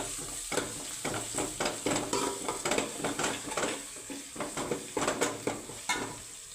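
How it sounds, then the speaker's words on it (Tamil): Ginger garlic paste for chicken gravy is stirred and fried in a pan, with rhythmic scraping strokes of a spoon against the metal over a soft constant sizzle, close and fairly quiet, with no talking. "இஞ்சி பூண்டு விழுது இதையும் நல்லா மிக்ஸ் பண்ணிக்கணும்"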